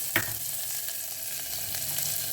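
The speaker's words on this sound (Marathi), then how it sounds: "फक्त आपण इथे फोडणीचा कांदा घालतो आहे" Onion sizzling in hot tempering oil for a prawn and Bombay duck curry, a close, steady crackling hiss with a few small pops and faint stirring scrapes.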